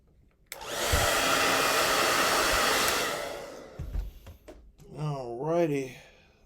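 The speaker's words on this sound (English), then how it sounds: "Now, let's hit it with some heat." A heat gun blows steadily for about two and a half seconds while heating grips onto a Springfield Prodigy pistol handle. It gives a loud, even airy roar that stops abruptly, and then someone talks.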